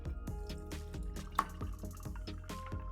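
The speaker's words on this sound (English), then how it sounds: "Add some ice to your glass and pour in your mixture." A whiskey sour mixture of lemon juice and simple syrup is poured into a glass over ice, with a quick run of liquid trickles, drips and small ice clinks, close and quiet, without speech.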